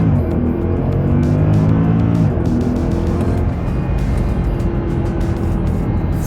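A stock Mercedes-AMG 6.2-liter V8 car launching hard for a 0-60 mph run, loud and close, its engine roaring and rising through the revs before a gear change, then pulling on steadily with continuous rumble and no talk.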